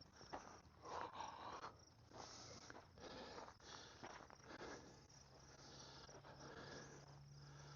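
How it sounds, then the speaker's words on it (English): Crickets chirp continuously outdoors in a cemetery in Elbert, Colorado, in a faint, steady trill, with a few soft rustles and a low hum in the background. "Do you hear the crickets?"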